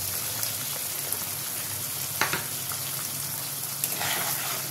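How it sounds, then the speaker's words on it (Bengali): Butter sizzling in masala paneer in a pan, a soft continuous frying crackle with occasional pops and a brief stir, quiet and close, no talking. "এবার আমি একটু এর মধ্যে বাটার দিয়ে দেবো।"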